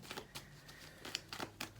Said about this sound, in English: let me do a little bit of shuffling.